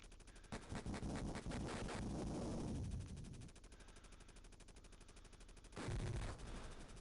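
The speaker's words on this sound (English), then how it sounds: "Those cannons aren't particularly damaging, but they do have quite a high fire rate" Enemy cannons in Jungle Strike on the Sega Genesis fire in rapid, rattling bursts, loud, dense and repetitive, pausing briefly before another burst.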